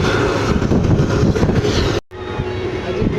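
Crowded Rangiya Express passenger train running, a loud steady rumbling roar from inside the carriage with a brief dropout partway before the continuous rolling noise resumes.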